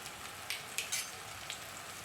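Chopped ridge gourd fries in hot coconut oil with a faint, steady hiss broken by a few sharp crackling pops.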